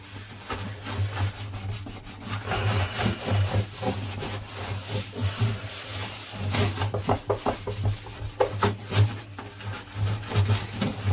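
Rhythmic rubbing of a cloth over the wooden body of a 1970s acoustic guitar, brisk back-and-forth strokes with a scratchy, woody texture, close and alone.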